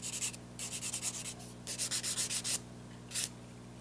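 A rough-textured nail file rubs briskly across a fingernail during an at-home manicure, in several short bursts of dry, close scratching strokes with brief pauses between them.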